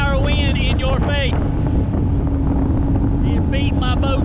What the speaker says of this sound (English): It's nothing like driving across the middle of the lake with a 12 to 15 mile an hour wind in your face.